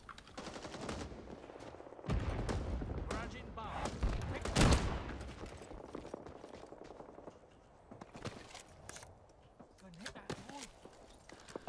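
Gunfire in the Vietnam-era shooter Rising Storm 2: Vietnam, with bursts of automatic fire and a heavy blast mixed with battlefield noise, loud in stretches and fading to quieter shots, under players talking.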